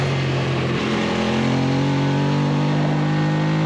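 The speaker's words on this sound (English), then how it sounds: "Now I've got a bunch of bikes in front of me." Racing motorcycles on a track during a novice race, one bike's engine droning loud and close in a steady, slightly climbing roar, with the whine of other bikes blended in.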